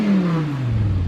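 An Audi R8 V10 Spyder, parked, gives a loud, close engine rev whose tone sweeps downward as it winds down, with no talking over it.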